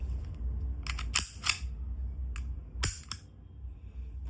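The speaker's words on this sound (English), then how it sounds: "All you need to do is just slide it back to the position, hold it backwards" The slide of an Umarex Beretta M9A3 air pistol is worked back into place during reassembly, giving a few sharp, close metallic clicks and snaps separated by quiet handling.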